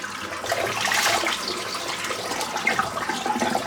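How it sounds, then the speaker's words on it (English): Soapy water with loose hair draining out of a bathroom sink after a wet shave, a steady close gurgling rush of liquid that holds fairly even throughout, with no talking. "Just empty the sink out of all the soap and hair."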